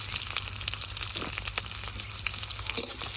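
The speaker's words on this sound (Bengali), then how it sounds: "পেঁয়াজ কাঁচামরিচ গুলা ভালোভাবে ভেজে নিব।" Chopped onion and green chilies frying in hot oil in a wok, a steady bright crackling sizzle with scattered pops, close and continuous with no talking.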